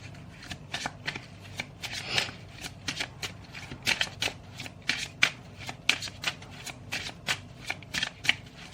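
Tarot cards are shuffled close up in a quiet room, giving a rapid series of crisp riffling and tapping bursts with an uneven rhythm, faint and without talk.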